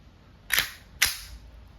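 Two sharp, close snapping shots from a WE Glock 17 Gen 5 airsoft pistol, about half a second apart, each with a quick metallic clack and a brief decay, in an otherwise quiet room.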